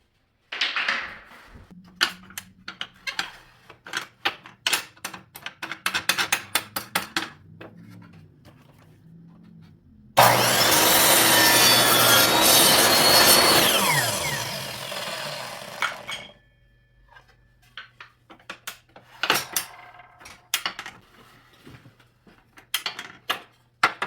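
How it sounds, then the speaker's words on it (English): Wooden door trim being sawn in a steady burst of about six seconds, loud and close, set among scattered clicks and knocks of handling the wood before and after, with no talking. "So you can cut it wherever, just cut it here and cut this one this way."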